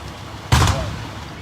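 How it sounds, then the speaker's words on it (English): A single sharp, heavy bang bursts from an arson fire in Kenosha, Wisconsin, cutting through a low background rumble and then fading quickly. "A lot of explosions going off in the fire."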